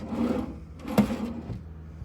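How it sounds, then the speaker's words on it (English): A drawer in a Las Vegas Mardi Gras hotel room is opened, giving a single soft wooden knock and slide over a quiet room hum. "Drawer."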